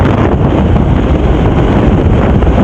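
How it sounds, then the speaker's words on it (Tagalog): Strong wind buffeting the microphone on a coast in Mobo, Masbate, a loud continuous roar of rumbling gusts that fills the whole moment. "Malakas ang hangin ngayon,"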